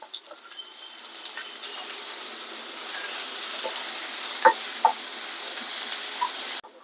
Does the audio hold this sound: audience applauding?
no